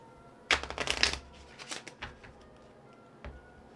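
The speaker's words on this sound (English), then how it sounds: "I don't know how to shuffle like that." Playing cards are shuffled close up in a quick riffle burst of crisp fluttering snaps, followed by a few scattered lighter card taps and slides in a quiet room.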